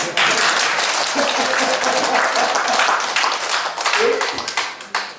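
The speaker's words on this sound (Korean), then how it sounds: "박수를 치든지" Audience clapping at a health seminar on traditional medicine, a loud, steady burst of many hands close by, with a voice talking over it.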